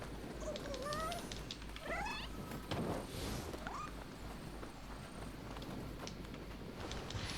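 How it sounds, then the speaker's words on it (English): A cat in the video game Nioh 2 purrs and gives several short rising meows while rubbing against the player character's legs, heard among faint game ambience and soft footstep-like taps, fairly quiet overall. "A cat? It's rubbing against my legs."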